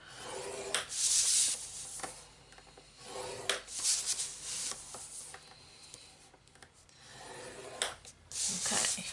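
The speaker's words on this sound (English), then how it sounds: "you're just going to score it at 1 inch all the way around." Card stock is scored at one inch around an 8.5 by 6 5/8 sheet, with soft, faint scraping strokes repeating in short bursts close by.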